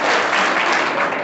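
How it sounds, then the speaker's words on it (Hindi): Audience applause at a Nagda Brahmin community gathering in Khachrod, a steady, loud wash of clapping from a crowd, sustained without a break and with no talk over it. "पुनः ताली बजा करके"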